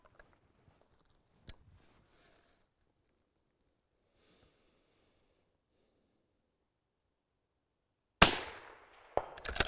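A single rifle shot during long-range ballistic testing in the field, a sharp loud crack followed by a decaying rumble, with a second fainter impact shortly after and a few soft clicks earlier in near silence.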